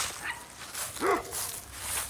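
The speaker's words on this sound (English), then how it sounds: "My dog over there want to argue with Rockwaller as if he'll win the fight" A dog on a rural property with a greenhouse gives a few short yips and whimpering barks at a moderate distance over a steady background hiss.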